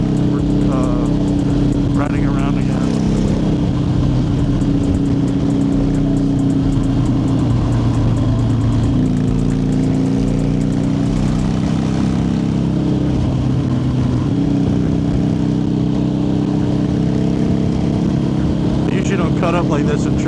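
A motorcycle rides through traffic with a steady, loud engine drone and shifting pitch that runs the whole time, with a voice talking over it.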